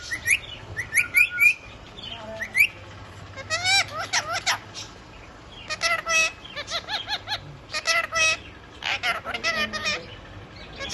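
A pet parrot at a house calls in bursts of shrill chirps and whistled, speech-like squawks, loud and close, coming in quick clusters separated by short pauses.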